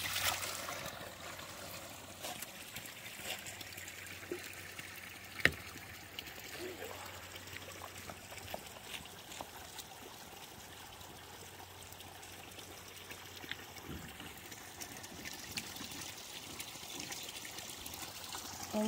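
Quiet trickle of mountain spring water pouring steadily into a 4-gallon jug, with a soft continuous splash and faint background noise throughout.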